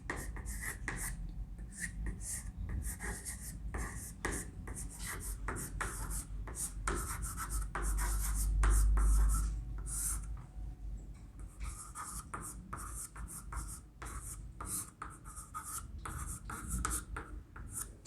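Chalk scratching on a board as a Hindi grammar lesson is written up, a long stretch of continuous scraping and tapping strokes, close and fairly soft, with no speech.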